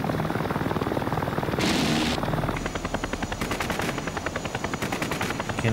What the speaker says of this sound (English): Now the Hind's firing.